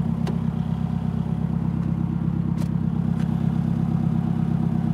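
A Nissan 240SX engine idling steadily while warming up on a cold night, a continuous low mechanical drone with a few faint clicks and clatters on top.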